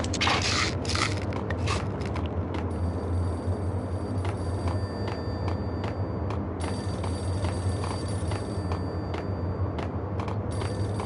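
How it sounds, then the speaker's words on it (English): A payphone rings in the video game Max Payne, its bell repeating in bursts over a steady low ambient hum with scrapes and crackles, fairly close and alone without talk. "A payphone started to ring."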